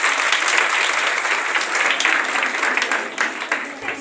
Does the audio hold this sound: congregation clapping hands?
yes